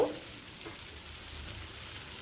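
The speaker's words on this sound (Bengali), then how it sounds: "মশলাটা দিয়ে পটলটা কষানো হয়ে গেছে" Pointed gourd (potol) being sautéed in a spice masala in a pan gives a soft, steady sizzle that runs evenly throughout, fairly quiet and with no voices.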